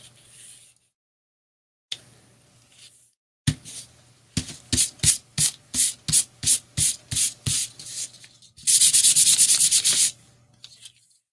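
A treasure journal rubbed briskly by hand, with a long run of evenly spaced dry strokes near the mic, then a dense steady stretch of continuous rubbing before it stops.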